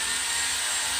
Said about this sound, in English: We found a big chunk of concrete. That's what he's trying to hammer drill out.